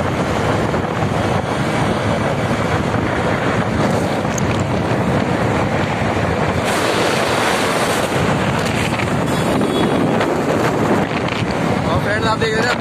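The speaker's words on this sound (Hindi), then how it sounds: "काफी तेज हवा चल रही है" Strong wind roars over the microphone while riding across a flyover on the NH91 Etah–Delhi expressway near Aligarh, a loud, constant rushing buffet that fills the whole stretch and covers the road noise.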